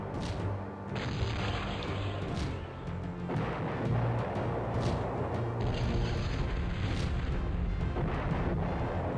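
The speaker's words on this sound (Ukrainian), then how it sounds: "Я поставив, щоб одна гармата стріляла вниз, одна трішки вище" Heavy booming cannon fire from the video game Cossacks, repeated blasts over a dense, continuous rumble of battle noise with no pauses.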